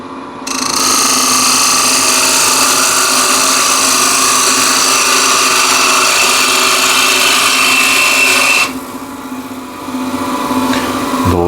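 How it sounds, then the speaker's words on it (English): A wood lathe spins while a half-inch ball gouge cuts a container from a plate and bowl blank, giving a loud, steady whirring scrape that drops abruptly near the end before resuming more quietly. "Half inch or 12 mil ball gouge."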